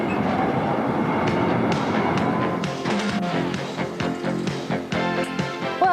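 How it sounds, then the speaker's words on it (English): A city tram runs along its rails, a loud, close rumble with clattering and squealing metal over about six seconds, growing busier with sharp knocks and clicks toward the end; no one speaks. "And what about these trams? Is this the best way of getting around the city?"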